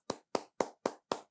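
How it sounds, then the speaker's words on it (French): Five crisp hand claps in a steady, evenly spaced rhythm, close and alone with no talk over them. "J'applaudis."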